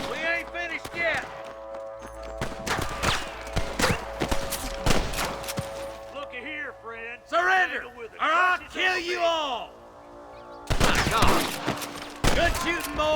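Rapid gunshots crack in bursts through a firefight in Red Dead Redemption, loud and close, interleaved with shouting voices and a pause before another dense volley.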